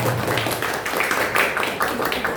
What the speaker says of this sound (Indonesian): Jadi ya, tepuk tangan.